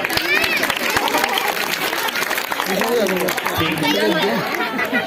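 An audience at a magician's show in Gwalior claps in a loose, ongoing burst of applause, mixed with lively chatter and voices talking over the clapping throughout.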